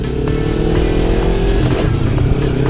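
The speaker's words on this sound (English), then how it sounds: "first gear coming to a stop, downshifting, again, clutch in, one peg" A motorcycle engine runs loud and close, its rumble steady with slight pitch shifts as the rider downshifts toward first gear while slowing to a stop, no voices audible.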